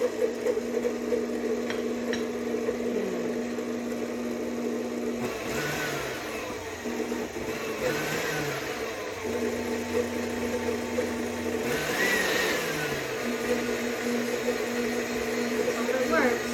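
An electric stand mixer whirs steadily as bread dough for breadsticks is mixed and flour is added, a constant motor hum with occasional strained dips in pitch.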